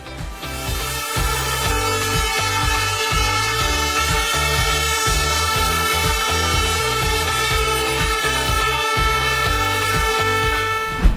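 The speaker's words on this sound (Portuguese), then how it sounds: "sempre que nós realizamos uma grande conquista, nós comemoramos com um buzinaço" Loud, continuous celebratory horn honking at a company office, many overlapping blaring horns sustained throughout with pulsing low tones underneath.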